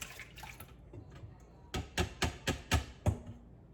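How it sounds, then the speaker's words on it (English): Skinned tomatoes slide and plop into a food processor bowl in a home kitchen, with a run of five or six wet thuds in quick succession after a soft, sloshing start. "I'm going to pour this tomatoes into the food processor."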